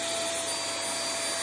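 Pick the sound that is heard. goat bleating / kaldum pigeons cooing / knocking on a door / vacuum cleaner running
vacuum cleaner running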